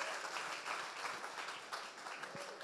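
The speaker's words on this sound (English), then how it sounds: "With your applause, everyone." An audience applauding to welcome the President of the African Development Bank at a youth climate-technology event, a steady, fairly faint wash of many hands clapping with a few stray louder claps.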